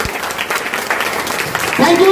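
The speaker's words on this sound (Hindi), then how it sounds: "तालियां बजती रहनी चाहिए" An audience at a direct-selling company event claps briefly under a loud voice talking over the sound, with a rising tone near the end.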